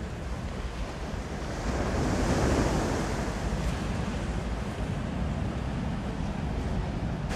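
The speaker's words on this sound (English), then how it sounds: "I keep stopping to stare at the waves." Ocean waves wash and roll continuously, swelling briefly louder, with gusty wind buffeting the microphone and no voices.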